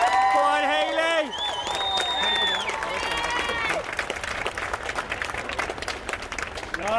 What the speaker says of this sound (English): we just wanted to give Hayley a round of applause and give her some love